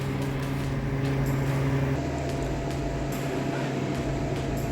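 A freeze dryer hums steadily as it cools its vacuum chamber, a loud, constant mechanical drone with a low tonal hum and no breaks.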